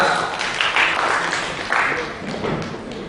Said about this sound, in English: A round of applause for Mr. Riaz.